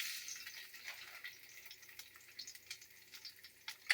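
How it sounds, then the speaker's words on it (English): Faint, steady sizzling of garlic scapes frying in a pan, a soft hiss with scattered small pops and crackles, close but quiet with no talking. "So we got some garlic scapes going."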